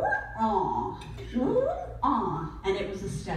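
A person vocally imitates a helicopter engine with fluctuating RPM, the voice rising and falling in uneven swells over a few seconds as if spooling up and down, close and moderately loud.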